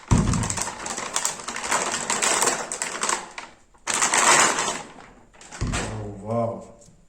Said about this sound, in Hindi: तो सबसे पहले हम ग्राफिक कार्ड को ओपन करते हैं।